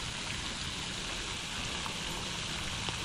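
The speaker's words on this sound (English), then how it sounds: "now we have this light drizzle coming down" A light drizzle falls on a lake during a fishing outing, a soft, even hiss of fine rain that holds steady throughout with no voices.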